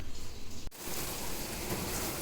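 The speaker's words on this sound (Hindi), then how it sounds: "बाहर हो गई तेज़ बारिश" Heavy rain falling outdoors, a steady broadband wash that swells in after a brief sharp break and then continues evenly and fairly loud.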